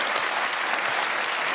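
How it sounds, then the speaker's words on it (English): Studio audience on a TV panel show breaks into steady, dense applause, loud and continuous throughout with no voices over it. "I think we should give a round of applause"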